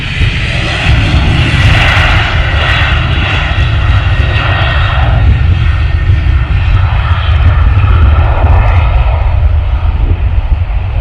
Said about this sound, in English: There we go, lift off to Tenerife.